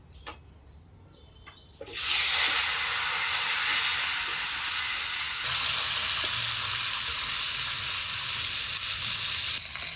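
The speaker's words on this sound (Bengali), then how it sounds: "ভাজা মাছ নামিয়ে দিলাম, এখন রান্নার মাছগুলো ভেজে নিই। কড়াইতে তেল একটু বেশি আছে" Fish pieces sizzle loudly in plenty of hot oil in a wok, a sudden burst of steady frying hiss that starts after a quiet moment and holds strong and close throughout.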